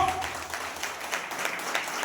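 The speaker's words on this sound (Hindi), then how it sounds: "जोरदार ताली बजाओ, अपने हाथों को उठाओ।" A church congregation claps loudly together in a fairly even, rapid patter that fills a large room, with indistinct voices mixed in.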